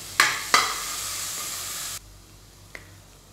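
Ginger and garlic paste dropped into hot oil for an Indo-Chinese hot and sour vegetable soup, two sharp splatters setting off a loud steady sizzle that drops off suddenly, then a single faint tap.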